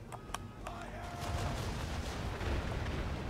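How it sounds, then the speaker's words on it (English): Cannon fire in the Assassin's Creed III video game: a few sharp booms near the start, then dense continuous rumbling battle noise, loud and steady, with faint voices in the background. "Firing these cannons also just feels so good."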